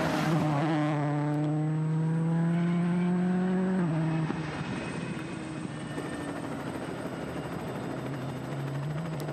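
A helicopter filming a Monte Carlo rally stage hovers overhead with a steady rotor drone, while a rally car's engine whines loudly and climbs in pitch before easing off, followed by continuous rumbling.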